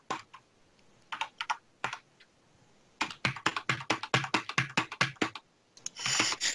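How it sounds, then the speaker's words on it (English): Bursts of computer keyboard typing, clattering keystrokes in quick irregular runs with short pauses, close and fairly loud with no talking. "Oh my god, that keyboard."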